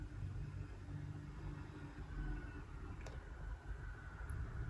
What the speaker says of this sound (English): I'm distracted by the sound of the car outside right now.